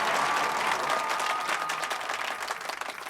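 A crowd applauds a political campaign speech, a dense, steady roar of many hands clapping that stays loud throughout and thins slightly toward the end.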